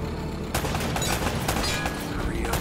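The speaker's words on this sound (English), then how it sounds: "Less talking, more shooting." Rapid bursts of gunfire crackle in Uncharted: Drake's Fortune, with dense overlapping shots and booms in a loud, continuous firefight, and a voice speaks over the shooting.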